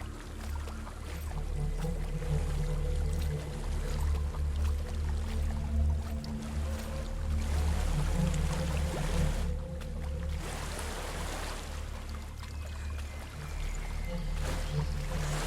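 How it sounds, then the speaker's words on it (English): A waterfall in the video game Hellblade: Senua's Sacrifice, a continuous rushing roar of falling water with deep low rumble, steady and fairly loud throughout. "There's a waterfall."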